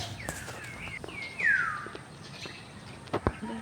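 A bird calls outdoors in a cold forest, one clear descending whistle standing out over faint rustling and background ambience, with a few softer chirps around it.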